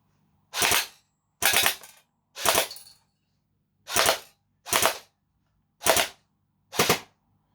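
Cyma CM.515 M4A1 airsoft carbine firing seven sharp, close snapping shots in short irregular bursts, each crack crisp and separated by brief silence, no talk.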